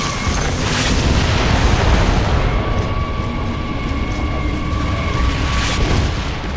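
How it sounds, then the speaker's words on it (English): Mortar artillery explosions pound continuously in a Gears of War: Judgment battle, heavy low booms layered over a constant rumbling roar, with bright bursts near the start and again toward the end. "The mortars have us pinned down!"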